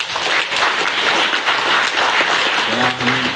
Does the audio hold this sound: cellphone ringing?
no